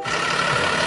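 A toy fire engine idles with a brief, even engine drone at moderate volume, steady for about a second with no voices.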